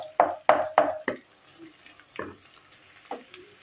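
Onion fries in a pan while a Bengali home meal is cooked, with four quick clattering stir strokes up front, then two spaced scrapes over a faint, quiet sizzle.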